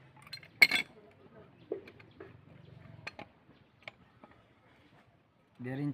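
Two 1.5-inch threaded sockets are fitted onto a threaded ball bulb fixture with a handful of sparse, close, sharp clinks and ticks, and a voice is heard briefly at the end.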